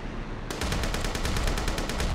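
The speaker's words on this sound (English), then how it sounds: "so we got our assault rifle here" Rapid automatic assault rifle fire in the video game Ravenfield, a sustained burst of evenly spaced shots starting abruptly after a moment of ambient noise and continuing loud to the end.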